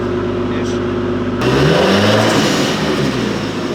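A Nissan R32 engine, which has an ignition timing drift fault, idling and then revving up loudly close by, while people talk over it.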